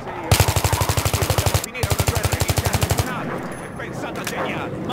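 Rapid bursts of automatic gunfire aimed at aircraft in Battlefield 3, two long rattling volleys with a brief gap between them, loud and close, followed by a noisier tail of mixed sound.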